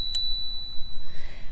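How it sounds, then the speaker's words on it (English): A handlebar-mounted bicycle bell on a KBO Breeze commuter e-bike rings once near the start with a bright metallic ding, then its clear tone rings on and slowly fades. "This bell seems to be a pretty high quality construction bell, fairly loud, maybe not the loudest bell that we've ever heard"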